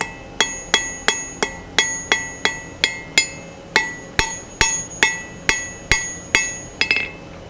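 Hammer peen striking hot steel on an anvil while forging an S hook, sixteen evenly spaced, loud ringing metallic blows in a steady rhythm, each with a bright decaying ring.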